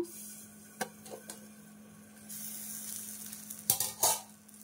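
Soft sizzling of okra frying in a pan, with a few clicks and stirring scrapes, and brief louder bursts near the end.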